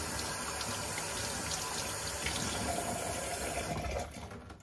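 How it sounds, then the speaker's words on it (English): Tap water runs steadily and loud at a sink while a Dyson cordless vacuum filter is rinsed under it, a continuous close splashing rush that eases slightly near the end. "while you're running the water"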